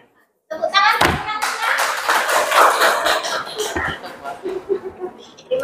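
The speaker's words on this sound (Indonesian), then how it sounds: "Tepuk tangan" A classroom of students bursts into applause after a group presentation, the clapping starting abruptly after a brief silence, close and lively with some thumps and voices, then thinning into scattered claps.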